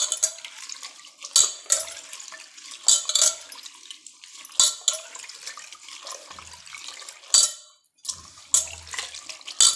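Gongura leaves being washed in a bowl of water during a second rinse: intermittent splashes and sloshing bursts, sharp and close, separated by short quiet gaps, with no voices.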